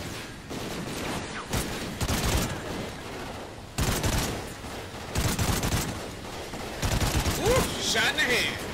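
Gunfire in Call of Duty: Ghosts on the Atlas Falls mission, heard as bursts of shots at a moderate level, spread across the clip over low game ambience.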